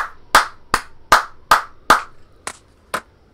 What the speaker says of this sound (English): Give him a clap, Joe.